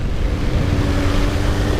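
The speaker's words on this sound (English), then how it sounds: "look at this car going through the puddle." A car passes through a puddle in heavy rain with a loud, continuous rushing splash of water and tire spray close by, heard from a roadside motorbike.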